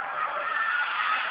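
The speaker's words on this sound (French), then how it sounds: "peut-être que l'ABS se déclenche un peu tôt" A Honda Civic Type R brakes hard, its ABS engaging as the tyres give a continuous high-pitched squeal and skid, loud and steady for over a second with no talk.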